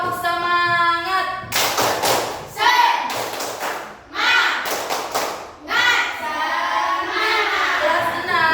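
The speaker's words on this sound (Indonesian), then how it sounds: "Tepuk semangat." A primary school class performs the tepuk semangat clapping chant, with bursts of rhythmic clapping and thumping mixed with children's chanting voices, loud and close, alternating with sung phrases.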